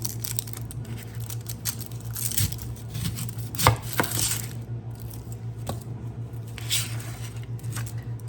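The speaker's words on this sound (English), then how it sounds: "So I'm gonna chop up the onion and then I will bring you back." A knife chopping an onion on a cutting board for a French spring soup, with irregular close sharp taps and light crunches spaced across a quiet kitchen.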